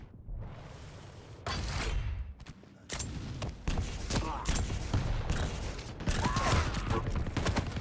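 Gunfire in a competitive video game match comes as bursts of sharp shots and booms, with clanking mechanical clicks between them. Some volleys are loud and close, others quieter, and faint talk sits under the action.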